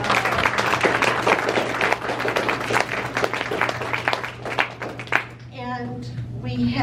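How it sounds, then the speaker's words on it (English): Veterans standing at a Kern Avenue historical society honors event receive a loud round of applause from many hands that fades out, while a steady low hum runs underneath and a voice comes in at the end. "can we have all the veterans stand and let's give them applause for their service."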